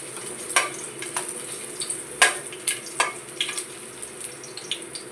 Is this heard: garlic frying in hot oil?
yes